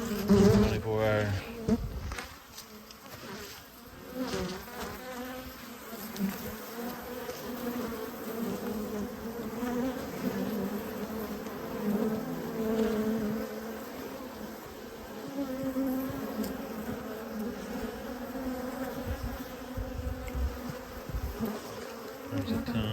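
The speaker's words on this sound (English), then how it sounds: "There's a ton of bees in these boxes." A steady swarm of honeybees buzzing close around hive boxes, a continuous droning hum that rises and falls slightly throughout, with no talking.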